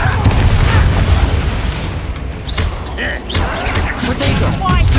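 Bombarda blasting spell going off in Hogwarts Legacy, a heavy rumbling boom with crashing debris that fills the clip, loud and close, with a few sharp crackles and pops on top.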